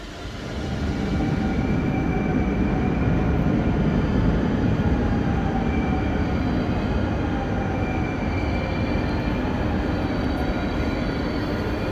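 At a Dutch railway platform, a train rumbles in and keeps up a loud, steady roar with faint whining tones over it, building up during the first second.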